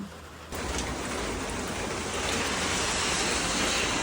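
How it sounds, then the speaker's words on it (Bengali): Heavy rain comes down on a road where someone is stranded during a lightning storm. The rain surges in abruptly after a quieter first half-second, then roars as a loud, steady wash that builds slightly, with no talking. "এত বৃষ্টি পড়ছে, মাঝ রাস্তায় আটকে আছি, কিভাবে বাড়ি যাব।"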